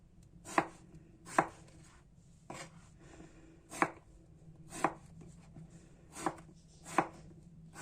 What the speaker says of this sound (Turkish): Patlıcanlarımızı da aynı şekilde büyük büyük doğrayacağız.